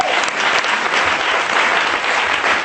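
A worshipping congregation claps and acclaims loudly in church, a dense, continuous roar of applause with crowd voices mixed in, sustained throughout.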